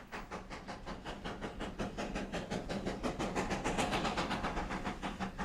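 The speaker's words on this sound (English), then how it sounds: "It's well worth the trip to see classic steam in operation." A classic steam train in Cuba chuffs in a fast, steady rhythm of hissing beats that grow slightly louder as it works nearby, with no talk.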